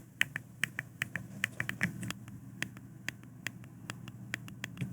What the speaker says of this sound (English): the click in this one is definitely louder